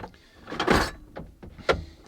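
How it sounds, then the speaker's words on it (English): A drawer slides open inside a VW California T6 campervan, giving a short sliding rumble followed by quieter clicks and a second brief slide, close and clear with no talking. "I'm just opening the drawer here to show you"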